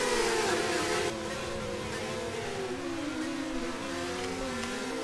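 Race cars accelerating through a braking zone into turn 1 during a motor race, a loud sustained engine roar with shifting, gliding pitch as the cars pass, dipping slightly after the first second.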